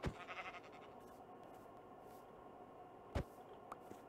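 A sheep bleats in the Minecraft video game, with a short burst at the start and a louder bleat near the end, over faint game ambience with no talking.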